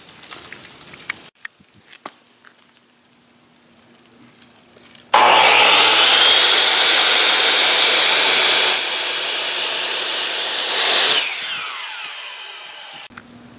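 A power saw rips through a wooden board for a farmhouse bench, starting abruptly after a quiet lead-in and whining loudly and steadily for about six seconds before winding down.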